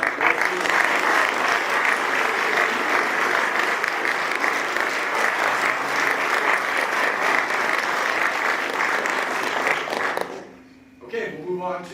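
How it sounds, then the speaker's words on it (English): Loud, dense applause from a crowd honoring a captain at a fire department promotion ceremony runs steadily for about ten seconds, then dies out and a voice begins speaking. "let's give one more round of applause to Captain"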